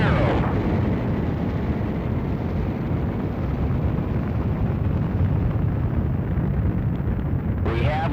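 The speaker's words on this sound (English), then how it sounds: "We have liftoff." A rocket lifts off with a loud, steady roar of broadband rumble that holds without break, with a brief voice at the start and at the end.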